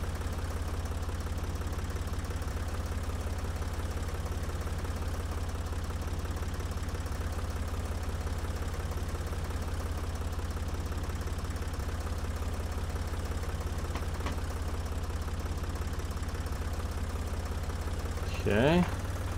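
A farm tractor engine in the video game Professional Farmer 2014 drones steadily with a low, constant hum that runs unchanged throughout, and a brief higher sound rises near the end.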